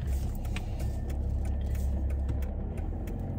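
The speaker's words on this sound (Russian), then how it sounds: "Все, едем домой" A car driving home after grocery shopping, heard from inside as a steady low road rumble and engine hum that runs the whole time with no talk.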